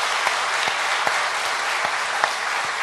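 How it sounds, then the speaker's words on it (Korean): A church congregation claps for its elders during a dawn revival service, steady dense applause filling the room from start to finish, with no voices standing out. "우리 장로님들에게 박수해 드립시다"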